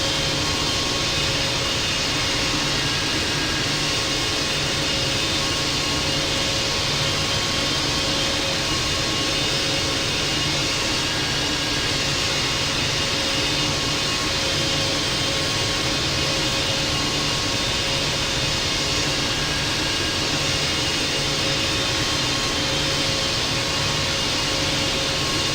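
A Boeing 777-200 jet taking off from runway 25 right in the Infinite Flight game, a steady loud engine roar with a constant tonal whine, unchanging and unbroken throughout with no voices.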